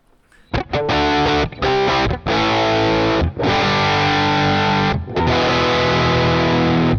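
Electric guitar with humbucker pickups through an EHX Germanium overdrive pedal at raised voltage, playing loud, sustained distorted chords with short breaks between strums, no voice.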